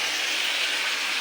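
Yardlong beans fry in a pan, producing a steady, close sizzling hiss that stays even and uninterrupted with no voices.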